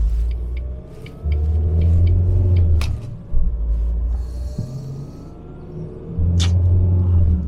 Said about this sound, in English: we're going to go out on a little bit of a bigger road, and we can go through the gears